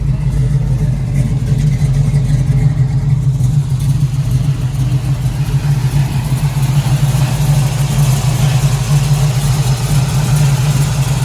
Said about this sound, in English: So, let's listen to the motor.